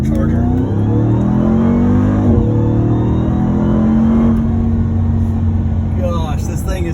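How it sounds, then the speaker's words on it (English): A Ram TRX pickup's supercharged engine revs and pulls under acceleration, a loud sustained drone with a rising whine heard from the cabin while a person talks over it. "And listen to that supercharger."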